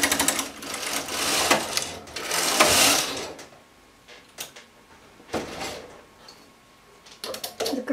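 Domestic knitting machine carriage sliding across the needle bed for two rows, each pass a loud mechanical whirring rattle, followed by quieter clicks and a final short burst, close and alone.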